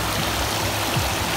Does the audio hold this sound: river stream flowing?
yes